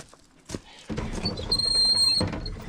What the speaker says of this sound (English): Ooh, that was squeaky.